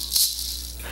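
A handheld shaker is shaken in a preschool rock-and-roll rhythm song. It makes a crisp, hissing rattle that peaks early and then keeps up as a steady, softer swish, with no voices.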